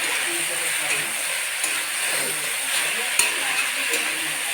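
Chopped tomatoes hit a hot pan and sizzle loudly and steadily, with frying hiss and occasional stirring clinks throughout.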